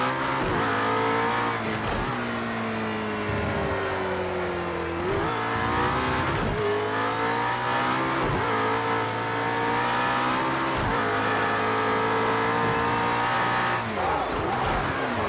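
A race car in Project Cars 2 accelerates hard around the Dubai circuit, its engine whining steadily up through the gears with repeated shift dips, loud and continuous throughout.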